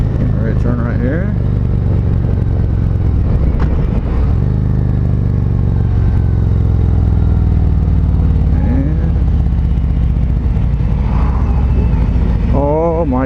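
A 2019 Harley-Davidson Road Glide Special rumbles loudly and steadily close up while riding, engine pitch shifting as it revs, with someone talking over it throughout.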